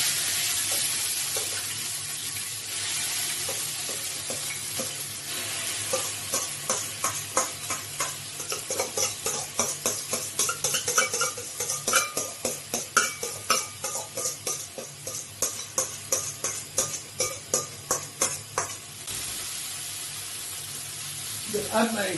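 Blended brown onion, spring onion, scotch bonnet and garlic sizzle in hot oil, a hissing fry under repeated rhythmic stirring scrapes that grow busier midway and then settle.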